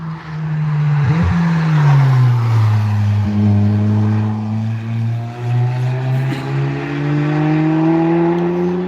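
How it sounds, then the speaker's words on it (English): A loud race car engine roars past on the Nürburgring, its pitch sliding down as it passes, followed by more engine drone continuing steadily. "Just when the cars pass, I can't really answer because it's too loud"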